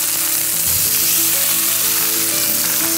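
Stuffed chicken breasts filled with goat cheese and cranberry sizzle steadily in a frying pan, a dense continuous fry crackle, close and fairly loud, with no talking.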